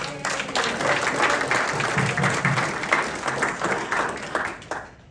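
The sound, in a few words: applause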